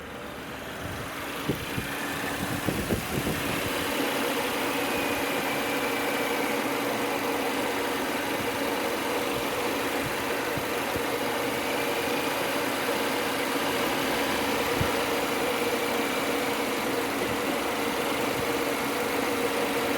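A 2016 Audi A6 engine idles with a steady, continuous hum and faint vibration, the idle speed wavering slightly up and down with no talk over it.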